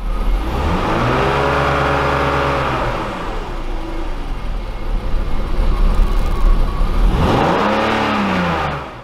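A BMW engine, its computer adding extra fuel to compensate for a suspected vacuum leak, revs up, settles into a rough steady idle, then revs again, loud and close with a sweeping rise and fall in pitch.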